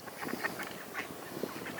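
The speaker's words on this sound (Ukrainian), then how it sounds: "Бачимо, ось наші качки впевнено рухаються по воді" Ducks on a river give soft, scattered quacks at moderate distance over a steady outdoor background hiss.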